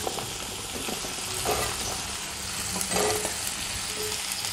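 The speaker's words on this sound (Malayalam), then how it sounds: "അപ്പോൾ മുരിങ്ങക്കായ ഇട്ട് കൊടുത്തിട്ടുണ്ട്." Chopped drumsticks frying with onion in a pan crackle in a steady, soft sizzle, with a couple of brief stirring scrapes and no talking.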